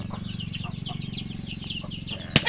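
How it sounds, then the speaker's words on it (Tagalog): Chickens cluck steadily close by, a dense layer of low clucking with scattered higher bird calls, ending in a brief sharp knock. "ang dami namin alagang manok dyan"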